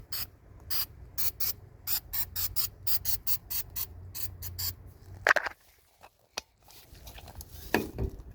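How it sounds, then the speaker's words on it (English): A rapid series of short aerosol spray bursts in an even rhythm, followed by a few scattered clicks and a final spray. "So let me see and spray a little bit more."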